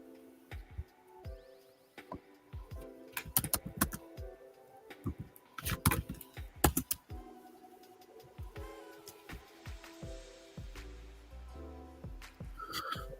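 Typing on a computer keyboard in a typing-practice program, with scattered key clicks and short bursts of quick tapping alongside other faint electronic sounds and tones, fairly quiet overall.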